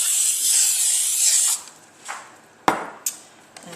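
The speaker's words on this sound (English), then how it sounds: "So I'm going to just spray my pan" Cooking spray hisses onto a baking pan in a steady burst of about a second and a half, followed by a few light clicks and taps.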